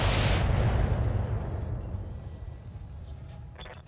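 Mortar shells striking a mech in a video game, a heavy booming impact that rumbles loudly at first and then decays into a long fading roar.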